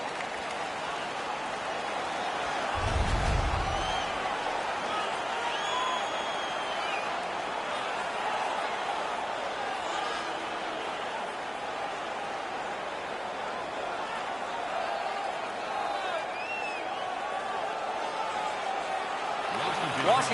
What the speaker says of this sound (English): The crowd is so pumped right now.